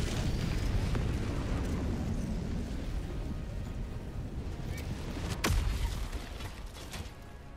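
A rocket explosion in the shooter game Helldivers 2: a sharp, loud blast cuts through a dense rumbling battle din, with heavy low rumble continuing around it.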